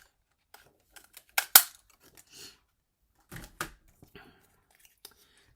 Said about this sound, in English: I'm just going to cut a quick 1-inch circle